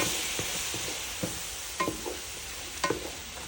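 A spoon stirs veg manchurian with soy sauce in a hot pan, giving a steady background sizzle broken by a few soft scraping and knocking strokes, close and with no voices.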